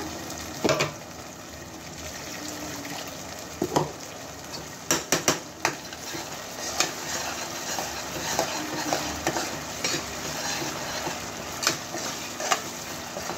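Fish masala frying in oil, a moderate continuous sizzle broken by occasional spoon scrapes and clinks against the pan, close by with no one speaking.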